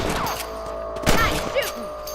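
Gunshots ring out in the Red Dead Redemption video game while rabbits are hunted with a rifle, several sharp loud cracks with thuds amid game ambience, no talking.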